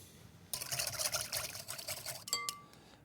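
Warm water pours into a bowl of butter and honey as a close, steady splashing stream lasting about two seconds, followed by a short glassy clink and drip as the pour ends.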